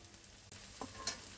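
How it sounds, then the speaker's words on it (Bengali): Garlic and onion frying in a pan give a faint, brief sizzle with a couple of light stirring scrapes. "আমি এগুলো একটু 2 মিনিট ভাজা করে নিব।"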